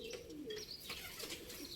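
Pigeons cooing on a rooftop, with soft low coos repeating steadily through the whole stretch, close by, along with some higher chirps and faint flutters in the background.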